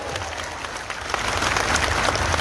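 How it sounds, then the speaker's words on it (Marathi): Crowd applause at a Hindu protest rally held at a Mahadev temple, a dense, loud clapping from many people that swells and grows stronger over a couple of seconds, with no voice over it. "आमदार संग्रामदादा जगताप यांच्यासाठी जोरदार टाळ्या झाला पाहिजे."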